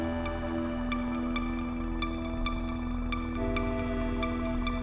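Moog Mavis synthesizer plays a 5/8 clave-style pattern through an Empress delay, sharp clicky hits with repeating echoes over a sustained droning bed, moderately quiet and without speech.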